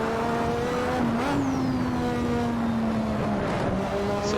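Lotus 98T Formula One car in Assetto Corsa lapping Monza near the Lesmo corners, its engine a loud, steady high-pitched drone that dips and rises through gear and throttle changes.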